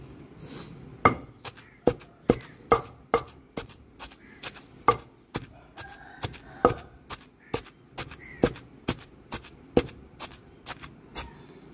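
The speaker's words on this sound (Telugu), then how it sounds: "గోంగూర ఇలా రోట్లో వేసుకొని మెదుపుకోవటమే" Gongura leaves pounded with garlic and onion in a stone mortar make a steady series of sharp, close thuds, about two per second, with no talking.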